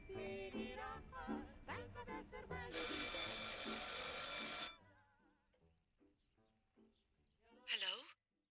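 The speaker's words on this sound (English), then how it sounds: "I should pick up the phone but remain silent." A telephone ring, a bright sustained electronic tone lasting about two seconds, comes in the middle of busy overlapping sounds and chatter, then gives way to quieter background and a short chirp near the end.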